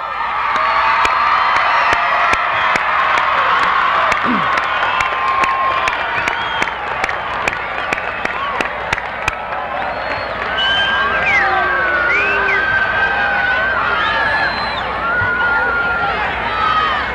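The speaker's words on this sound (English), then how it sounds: "congratulations, class. Deserve a round of applause" Graduating class at a 1990 Admiral King commencement breaks into loud, sustained applause and cheering, with whoops and shouts over dense clapping that stays strong for the whole stretch.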